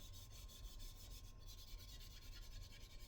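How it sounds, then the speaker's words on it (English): Soft, steady rasping of hand sanding, with even back-and-forth strokes continuing quietly throughout. "when you're done sanding this,"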